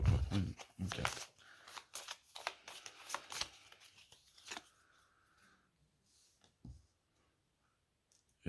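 Playing cards are handled and drawn during a card game, giving quick papery flicks and clicks close up that come in bursts, then fall into near silence with a few soft taps.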